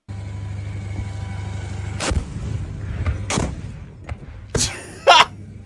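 GMLRS rockets striking an artillery battery in the war in Ukraine, heard as a steady low rumble broken by several sharp distant booms spaced a second or so apart, one louder close blast near the end.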